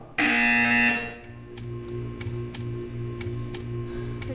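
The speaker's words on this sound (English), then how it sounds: "You will hear a buzzer." A loud buzzer from the Portal 2 video game blares for about a second, then gives way to a steady low hum with soft, regular ticking pulses.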